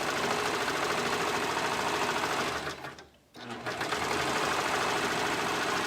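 A sewing machine stitches a fabric sleeve into a circle, a steady close whirring hum that runs continuously, pauses briefly near the middle, then resumes.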